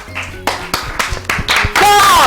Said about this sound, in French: Vous pouvez applaudir pour vous les amis.